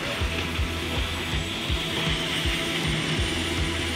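Helicopter lifting off from the middle of a busy road, its rotor beating in a steady, rapid thump over a loud, continuous engine whine, close and dominant throughout.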